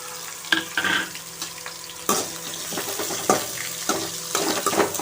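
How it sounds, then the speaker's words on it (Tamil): Garlic, curry leaves and onion sauté in a pan over high flame for an ivy gourd fry, with a soft sizzle broken by a few sharp spatula scrapes and clatters, close by and with no talking. "நல்லா தட்டி வச்சுருக்க பூண்டு இதை சேர்த்து நல்லா வதக்கிக்கலாம்"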